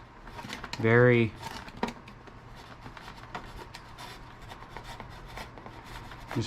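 A razor blade trimming the edge of a foam board wing at the aileron, producing soft scraping and rubbing strokes close by, quiet and continuous, with a brief tonal whine near the start.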